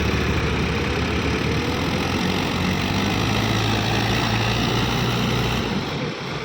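A Mahindra tractor engine roars at high revs while straining to pull out of deep mud, a loud, dense and continuous drone held close and steady throughout, easing slightly at the very end.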